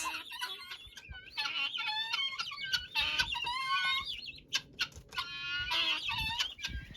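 Chickens and guinea fowl cluck and call outdoors in the snow, a busy overlapping flock with sharp, repeated near cries and no talking.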